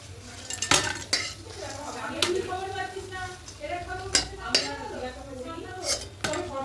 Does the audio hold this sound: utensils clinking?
yes